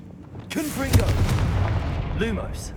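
Blasting Confringo spell explosions in Hogwarts Legacy, a few sharp booming bursts in quick succession, loud and close, with a voice speaking over them.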